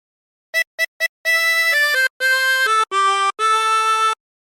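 Harmonica plays a phrase of a song: three quick short notes, then longer held notes moving up and down in pitch. It is clear and close and heard alone, with no talking.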